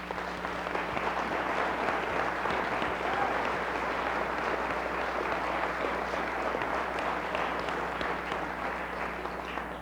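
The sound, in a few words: audience applause for youth and children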